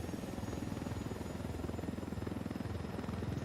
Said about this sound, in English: Hell yeah, an assault chopper.